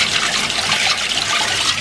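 Water from a newly connected supply in an Earthship house rushes steadily and loudly, a close, continuous splashing flow with no pauses or voices.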